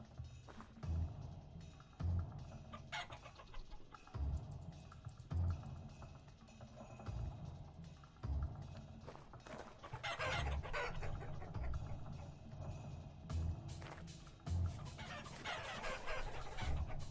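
Hens and a rooster cluck in the Vintage Story survival video game, intermittent clucks and low calls recurring every second or two over ambient game sound, moderately close and fairly quiet.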